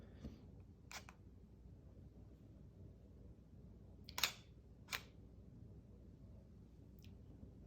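Quiet room with several sharp camera shutter clicks spaced apart, including a pair marking the open and close of a 3.2-second long exposure, faint and close.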